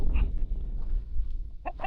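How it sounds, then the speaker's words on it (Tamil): A rooster sits close by in a dense forest village near the Karnataka border, giving soft clucks and short calls over a low rumbling background, with a brief burst of louder calls near the end. "இந்த சேவல் உட்காந்துருக்கு பக்கத்தில் போனால் டிஸ்டர்ப் ஆயிடும்"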